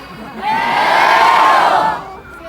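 Concert crowd at a live show in Yakutsk chanting a drawn-out call in unison, a loud sustained swell of many voices that rises, holds for about a second and a half, then fades.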